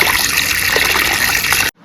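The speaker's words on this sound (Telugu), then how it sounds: "దీనికి సరిపడా వాటర్ పోసుకొని నైట్ మొత్తం నానబెట్టేసుకుందాము" Water poured over washed rice for soaking, a loud close continuous splashing trickle that cuts off abruptly near the end.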